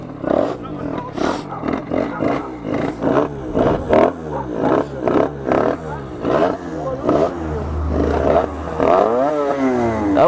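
A 75cc moped engine with a stuck throttle, revving hard in repeated rising and falling bursts close by, the speed climbing steadily toward the end, with people talking over it.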